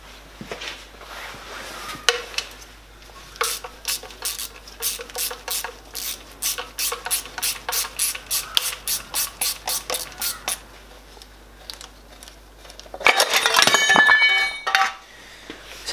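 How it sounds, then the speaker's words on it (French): A ratchet clicks in quick, even bursts while five timing cover screws are backed out of a Cupra engine, with repeated sharp ticking runs, short pauses between screws and a louder clattering rattle near the end. "On va dévisser les 1, 2, 3, 4, 5 vis pour les caches de la distribution."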